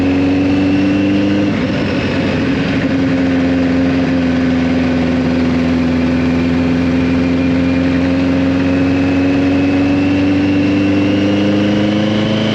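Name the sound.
1983 Kawasaki GPZ1100 motorcycle engine running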